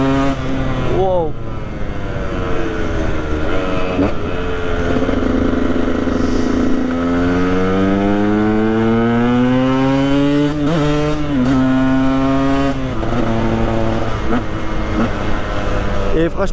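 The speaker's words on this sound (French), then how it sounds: "moi j'adore cette moto, vraiment 125 UXC de 2013" A 2013 125 UXC motorcycle built as a supermoto revs hard nearby, its engine climbing and falling in pitch through repeated throttle blips, loud and continuous, with someone talking over it.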